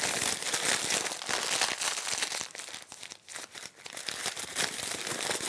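Newspaper sheet crumpled by hand for an art project, a dense, continuous crackling and crinkling close up that dips briefly in the middle before resuming, with no talking.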